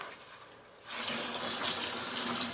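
After a short quiet moment, water under high pressure suddenly gushes out of a water heater drain in a strong, steady rush that continues to the end.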